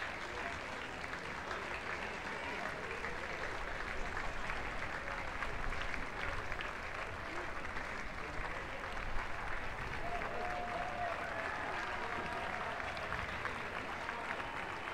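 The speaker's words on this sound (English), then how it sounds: "some wonderful applause for the women's plate champions, Sri Lanka" Distant applause rolls around a rugby sevens stadium in Hong Kong for the women's plate champions, Sri Lanka, a faint continuous patter of crowd clapping that stays steady throughout.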